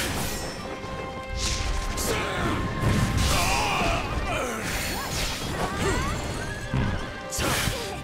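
A horse in the video game Wo Long: Fallen Dynasty whinnies and snorts among clashing combat hits, whooshes and hoof clatter, a busy, loud mix of battle sounds with the neighs rising over it.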